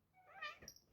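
A single soft, faint meow from a cat, brief and somewhat distant, in a quiet setting.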